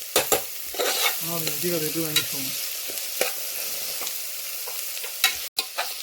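Curry leaves frying in hot oil while being stirred for Kerala-style chickpea curry, a continuous sizzle broken by sharp spoon scrapes and clinks, close and moderately loud, with a brief faint voice-like sound partway through.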